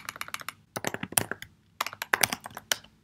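Quick bursts of computer keyboard typing as commands are entered at a terminal while installing Ethereum, coming in three short clusters of close, crisp key taps separated by brief pauses.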